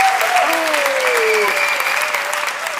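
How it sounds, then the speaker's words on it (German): A studio audience at a German Schlager TV show claps in dense, sustained applause, with a voice sounding over it. "das ist ein Applaus"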